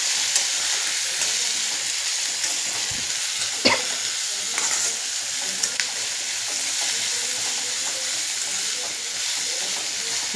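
Plain boiled chicken fries in a pan with a steady, bright sizzle and hiss, broken by a few sharp clinks and stirring scrapes, all fairly close and without talk.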